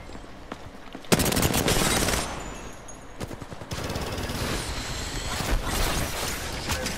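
Gunfire from the Peacekeeper shotgun in the battle royale game Apex Legends, a few sharp, loud blasts spaced out amid bursts of other automatic fire and mechanical clatter, with no talking.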